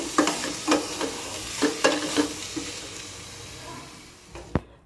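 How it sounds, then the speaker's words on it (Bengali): Potatoes and soya chunks frying in oil in a wok, with a steady sizzle and repeated rhythmic stirring scrapes, close and fairly loud, ending in a sharp clack of the utensil. "এবার দুটোকে ভালোভাবে আরও সময় ধরে একটু ভেজে নেব"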